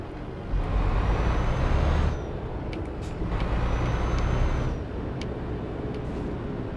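A heavy truck in Euro Truck Simulator 2 rumbles under a loud engine drone while sharp air-brake hisses and short pneumatic releases burst out in separate spurts, close and prominent, with no speech.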